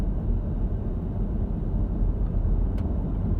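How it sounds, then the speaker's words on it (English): A vehicle rolls past on an oiled, chipped gravel road, a steady broadband rumble of tires on stone holding throughout at moderate level, with no voices. "oh, here comes a vehicle"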